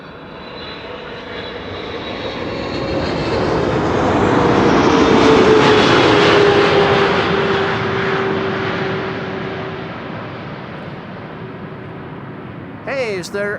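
A KLM Boeing 777 arriving at Amsterdam Schiphol swells from a distant jet roar to a loud pass overhead, then fades slowly, while people talk over it.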